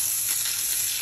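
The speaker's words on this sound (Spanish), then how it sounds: "Hay que sellar bien la carne. En este caso, la carne de pollo." Chicken meat searing in a hot pan, a steady, close, even hiss of frying with no breaks or voices.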